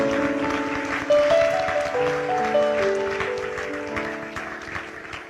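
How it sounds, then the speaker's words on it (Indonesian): A church congregation claps during a worship service, soft and a little distant, while sustained keyboard or organ chords play beneath and the clapping slowly fades. "Tepuk tangan buat Yesus"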